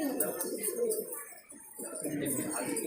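Pet pigeons coo in low, repeated throaty rolls, close and fairly loud, with a brief dip midway and faint chirps above.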